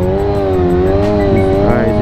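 A motorcycle engine revving hard and steadily during a wheelie, loud and close, a sustained droning roar with slight pitch wavering and no pauses.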